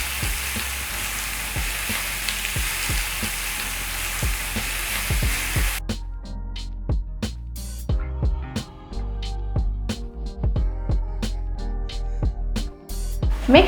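Fatty pork searing in a hot pan with no added oil gives a steady, loud sizzle and crackle for about six seconds, then drops to sparse pops and spits with faint scraping, as if the meat were stirred.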